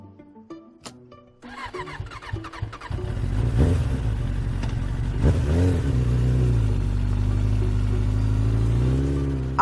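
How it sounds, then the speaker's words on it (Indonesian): A motorcycle at a petrol station, with a few small clicks before the engine catches, then revs up and holds a loud, steady drone as the rider pulls away. "Selesai mengisi bensin, ia melajukan motornya sambil melambai ke petugas pom bensin"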